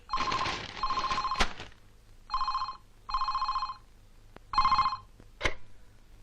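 A telephone rings in a home in several bursts of loud trilling bell tones separated by short pauses, close and clear, with no talking.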